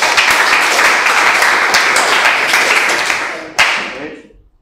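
Classroom applause after a quiz answer, a dense burst of clapping from students that fills the clip and tapers off, with one sharp clap near the end as it fades out.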